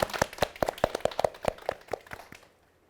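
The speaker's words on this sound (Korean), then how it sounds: "긴 시간 동안 멋진 강연과 자세한 질의응답을 해주신 박사님께 박수" Audience applause closing a science lecture with a Q&A session, a dense run of sharp hand claps in quick succession for about two seconds before fading out.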